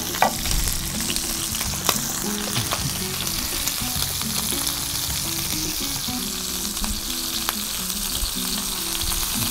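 Shrimp fry in a pan with a loud, dense, steady sizzle and crackle throughout, near and unbroken, with an occasional scrape of a utensil.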